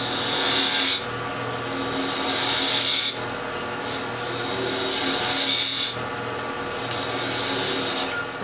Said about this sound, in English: What I want here at the top is hollow this out just a little bit. So I'll use a spindle gouge